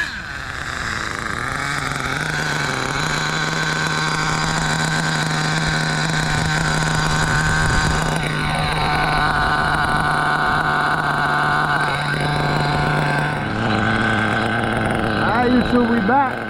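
HPI RS4 Big Block nitro RC car making a flyby, its small engine wailing steadily for a long stretch and shifting pitch as it passes, loud and close, with voices talking over it.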